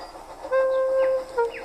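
In a Thomas the Tank Engine story, a steam engine whistles: one long, steady toot, then a short second toot. The whistle is clear and fairly loud over faint background noise.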